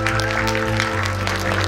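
Audience applause at a Netflix movie talk as actors Song Joong-ki, Choi Sung-eun, Jo Han-chul and Lee Sang-hee arrive, dense steady clapping filling the hall with a low hum underneath, loud and unbroken.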